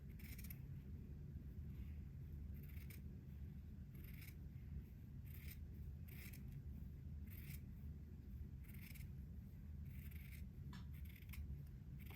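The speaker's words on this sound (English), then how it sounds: "I need to trim away the batiste from one side of the beading" Small scissors make soft, sharp snips while trimming fine batiste fabric away from beading on a little white dress. The snips are close and quiet, coming singly or in quick pairs at irregular intervals with nobody talking.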